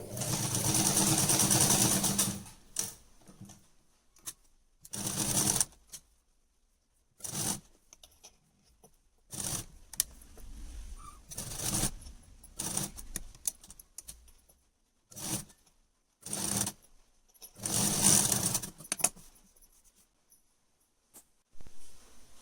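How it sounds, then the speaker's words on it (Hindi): Domestic sewing machine stitching kurti fabric in short bursts, several separate runs of rapid needle chatter broken by quiet pauses and small handling clicks, close and fairly soft. "अब हमें एक ऊपर से सिर्फ एक सिलाई कर लेनी है इस तरह से।"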